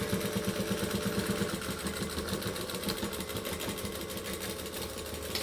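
A sewing machine back stitches on a clutch bag, running in a fast, steady mechanical whir of rapid needle strokes, close and continuous for several seconds.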